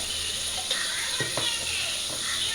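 Masala with coriander powder and ginger paste frying in a pan, a steady close hiss of sizzling with a few soft scraping stir sounds.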